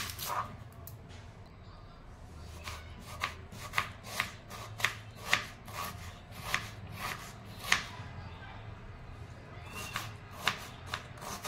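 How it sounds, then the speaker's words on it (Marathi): A knife chops a medium onion finely on a board, the crisp taps coming at a steady, slightly uneven rhythm, close and fairly quiet. "मध्यम आकाराचा कांदा बारीक चिरून घेते आहे"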